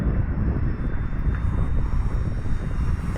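E-flite Commander MPD 1.4m RC plane cruising at roughly half throttle on a breezy day, its electric motor giving a steady, continuous drone with an airy whine on top, even in loudness throughout.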